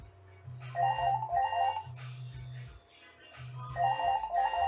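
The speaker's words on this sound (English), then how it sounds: "Oh God, who can that be? My bloody phone again." A phone in a video game rings with a repeating electronic melody, two rising phrases, then a pause before it starts again.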